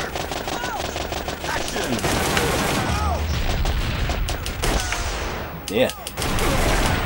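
Rapid bursts of light-gun fire in Time Crisis on the PS1, loud rattling machine-gun volleys and booms over game music, with brief pauses and a voice calling out in the game.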